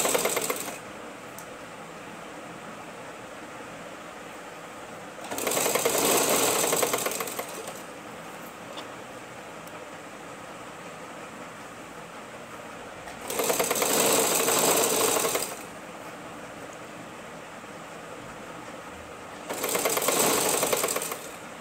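A sewing machine stitches through fabric lining in three loud, steady bursts of a few seconds each, separated by quiet pauses while the cloth is arranged.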